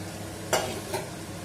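Masala vegetable rice stirred in a pan, with two quick scraping strokes of a spoon over a faint, steady sizzle.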